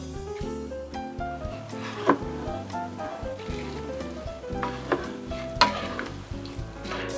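Rice and other ingredients for yellow rice are stirred in a pot, with a close, steady scraping sizzle and two louder knocks of the spoon against the pot.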